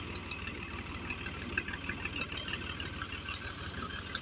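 A farm motor in cotton fields runs steadily, with a continuous low, throbbing engine chug and a mechanical rattle, moderately distant and unbroken, with no talk.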